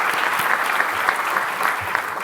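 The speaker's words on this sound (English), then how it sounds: "please clap for them" Audience at a gala dinner breaks into steady, dense applause, many hands clapping together at an even loud level throughout.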